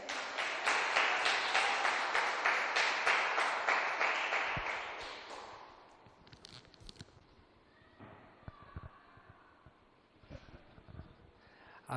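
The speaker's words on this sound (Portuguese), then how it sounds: "Aplauda ao Senhor," A church congregation claps in praise, a dense rhythmic burst of applause that is loud at first and then fades away after about five seconds, leaving scattered quieter room sounds and a few faint claps.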